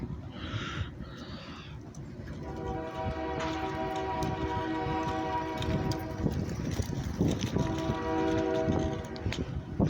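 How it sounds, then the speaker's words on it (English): An OC&T passenger train passes on a Saturday in August 2024 near Oil City, Pennsylvania, its horn sounding in long sustained blasts over a rumbling, rolling roar of wheels and cars that builds and holds close by. "We got an OC&T passenger train coming."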